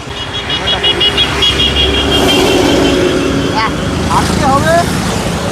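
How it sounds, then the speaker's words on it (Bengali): A motorbike races past at speed on a road near the airport in Lucknow, a loud broadband engine roar that holds steady over a busy traffic rumble while people talk nearby. "ও কি বাইক গেল আর সারা সব রেস লাগিয়েছে"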